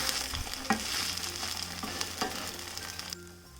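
A breakfast snack cooks in a pan with a quiet, steady frying hiss, broken by a few light scrapes and taps as it is pressed down.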